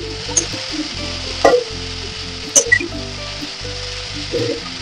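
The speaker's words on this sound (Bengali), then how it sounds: "ছোট সাইজের পেঁয়াজ, কিছুটা বাঁধাকপি, আর কিছুটা স্প্রিং অনিয়ন, এগুলো দিয়ে একটু ভেজে নেব।" Small onion, cabbage and spring onion fry in a pan with a continuous close sizzle, broken by a few sharp clinks and scraping stirs of the utensil against the pan; no one speaks.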